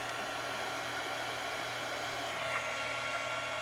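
A hair dryer blows steadily and loudly on a craft project, giving a constant broadband whoosh with a low motor hum beneath. No voices are heard.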